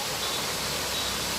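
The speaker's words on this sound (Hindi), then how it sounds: "लुगुबुरु घंटाबाड़ी धर्म स्थान का ये झरना है, लुगु झरना" Lugu waterfall at the Luguburu Ghantabari shrine, currently carrying little water, gives a steady, close, continuous hiss of falling water.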